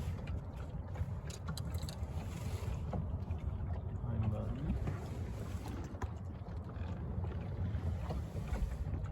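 Steady wind noise rushes across the microphone over gentle water sounds from a Buccaneer 18 sailboat in a light breeze on open water, continuous and even throughout.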